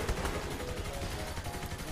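Rapid minigun fire in the Saints Row: The Third video game, a dense, sustained stream of shots that keeps up without a break for the full two seconds.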